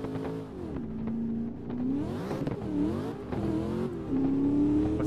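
Race car engine in a VR drifting game on the Teretonga Park circuit, revving and shifting through gears with rising and falling pitch sweeps, steady and fairly close, with no talk.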